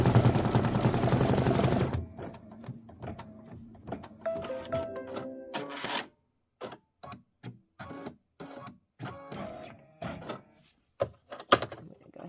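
An embroidery machine stitching an acorn cap fill and leaf detail on a Kimberbell pillow design: a dense whirring run at first, then quieter stitching broken into short, rapid bursts separated by pauses.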